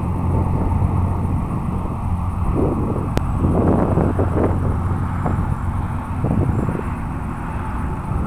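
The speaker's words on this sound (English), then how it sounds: "A lot of gusty wind going on here." Gusty wind buffets the microphone outdoors at a model plane flight, a loud continuous low rumble that swells and eases in gusts throughout, with no clear voices.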